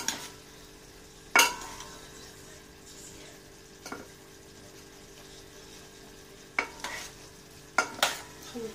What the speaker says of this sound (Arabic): خلطوها مزيان، تاك تخلط مع هذيك القرعه والبصله مزيان.